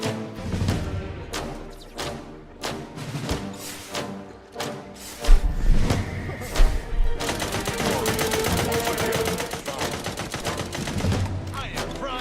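Gunfire in The Outer Worlds 2, sharp separate shots at first, then thuds and a dense, loud rapid volley that continues to the end.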